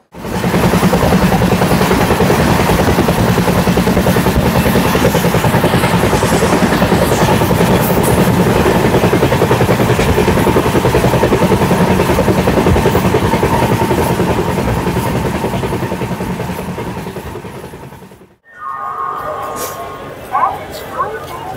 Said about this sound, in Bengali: আমাদের ট্রেন 13009 দুন এক্সপ্রেস কিন্তু এইমাত্র এসে পৌঁছালো লখনৌ স্টেশনে